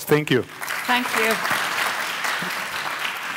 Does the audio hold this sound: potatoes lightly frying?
no